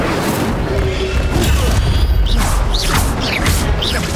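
An Incendio fire spell is cast in Hogwarts Legacy, a loud, dense burst of roaring, crackling magic under sustained game noise, with sharp whooshing flourishes near the end.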